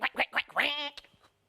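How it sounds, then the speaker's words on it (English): A duck on a farmyard gives a rapid series of four nasal quacks, the last one drawn out, loud and close, followed by a few fainter sounds. "It's a duck."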